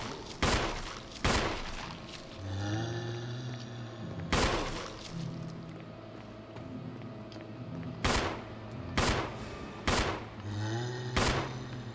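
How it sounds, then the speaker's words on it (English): Resident Evil HD gunshots: sharp, loud single shots fire in spaced clusters, two early, one in the middle and three later. Each rings out over low, droning game ambience. "Wow, all three of those shots not connected."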